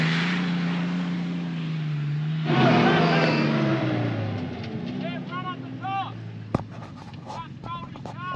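A car engine revs hard while trying to climb a sand dune on a beach run, a loud straining drone that drops away midway, followed by scattered knocks, a sharp bang and other vehicle noises.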